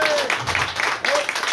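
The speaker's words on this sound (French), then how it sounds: "vous pouvez aussi applaudir Dominique Guénin" A short burst of audience applause at a French literary conference, with dense clapping close by and a voice briefly audible underneath.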